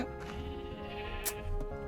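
Sheep bleat in the Minecraft video game, a wavering, harmonic bleat that is fairly loud and close, with a short crisp click partway through.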